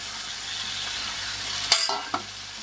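Chicken pieces go into hot spiced oil in a pan, bringing a sudden sizzle burst and a couple of metallic clinks over a steady background hiss.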